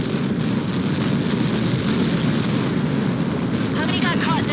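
A massive blast from a projectile impact in the Ace Combat 7 video game roars as a dense, sustained rumble that fills the whole stretch. A brief voice surfaces near the end.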